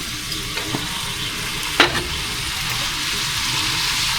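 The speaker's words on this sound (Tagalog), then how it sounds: "Prito mantika." Small katuba crabs frying in cooking oil make a steady close sizzle, with a few soft pops and one sharper crackle partway through.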